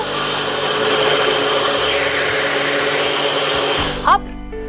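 A kitchen blender whirs loudly and steadily for about four seconds while blending a kasha drink with cucumber and pepper, then cuts off abruptly with a short clunk.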